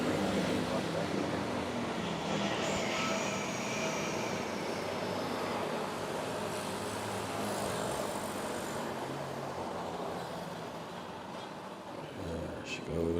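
A jet airliner rolls for takeoff on runway 06 at Manila's NAIA airport, a broad steady engine roar from a distance with a faint whine, while people talk quietly nearby.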